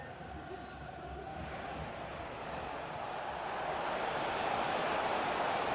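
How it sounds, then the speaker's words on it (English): A steady stadium crowd roar from a football video game, a broad wash of noise that swells gradually louder toward the end with no distinct individual voices. "just listen to the crowd"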